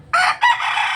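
A rooster crows once, loud and close, in a brief strained call.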